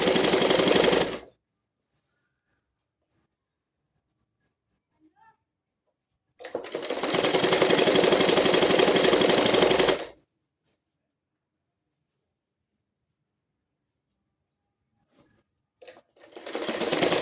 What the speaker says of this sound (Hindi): इसको हम स्टिचिंग करके ज्वाइन करते हैं